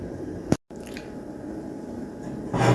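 Thick cornmeal porridge sweetened with grated nutmeg gets stirred, giving a soft wet squish, a short pause, then a louder squelching stir at the end.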